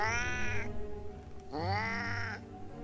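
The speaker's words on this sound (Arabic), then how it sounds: "مش صوت قطة عادية زي ما بنسمع الصوت بتاعها" A black cat in a parked car gives two long, loud, strained meows. The cries are harmonic and wavering, with a brief gap between them and no talking.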